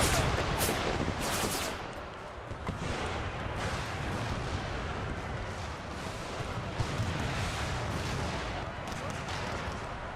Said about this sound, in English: And here comes the howitzers.